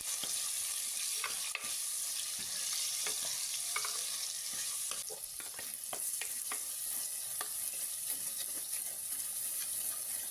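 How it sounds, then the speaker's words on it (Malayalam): Garlic and a large tomato fry in a pan with a constant bright sizzle, while a spoon stirs them and clacks against the pan at irregular intervals. "ഒരു വെളുത്തുള്ളി ഇട്ട് പൊട്ടിച്ചതിന് ശേഷം അതൊന്ന് നല്ലപോലെ ഇളക്കി കൊടുക്കുന്നുണ്ട്"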